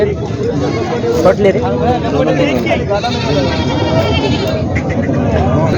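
Goats, including Osmanabadi goats, bleat repeatedly amid a busy crowd at the Vasmat goat market, with people talking nearby over steady market chatter.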